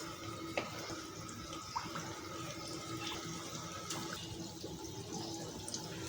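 Chicken spring rolls fry in hot oil over a low flame, giving a faint, steady, even sizzle throughout with a few tiny pops, and no talking.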